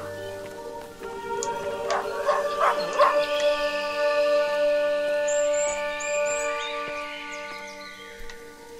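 Dogs in the horror game Maid of Sker, yipping and whimpering barks that rise into a drawn-out howl over a steady tonal music drone, fairly close.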